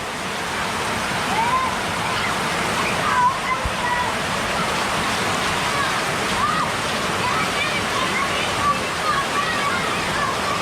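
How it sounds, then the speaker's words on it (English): Dense, steady roar of heavy rain pouring down in Naga City, Philippines, constant and loud throughout, with occasional faint tones beneath. "it all of a sudden just started pouring down"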